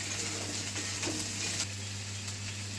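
Vegetables, including onion, green chillies and eggplant, frying in a pan with a continuous loud sizzle and hiss, a few faint stirring scrapes over a steady background hum.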